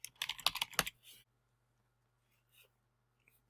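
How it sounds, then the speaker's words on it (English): Quick keystrokes on a computer keyboard patter closely for about a second, then stop, leaving near silence with a faint hum and a couple of soft isolated clicks afterward. "We're going to type in final."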